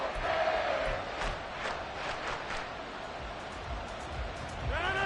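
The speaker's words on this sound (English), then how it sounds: "the crowd getting into it as we come up on a big 3rd down" A video-game American football stadium crowd in Madden 24 roars and cheers in a sustained, fairly distant wash of voices that swells at the start and end.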